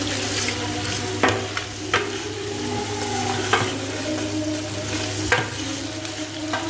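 Onion, garlic and ginger sizzling together in a hot pan, a steady loud frying hiss with a low hum underneath and several sharp scraping knocks as the mixture is stirred; no talking.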